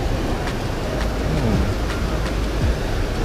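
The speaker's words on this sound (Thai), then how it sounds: "ตอนนี้ฝนก็มาปุ้นแล้วนะครับ" Steady rain falls on a riverbank during a catfish fishing trip on the Fang River, a constant broadband hiss that fills the whole clip with no speech.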